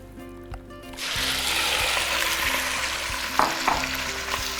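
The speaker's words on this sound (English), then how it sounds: "The pork goes in the pot." Pork dropped into hot oil in a pot for adobo, starting quiet before a sudden loud, broad sizzle that holds steady with a few clanks, close and without talk.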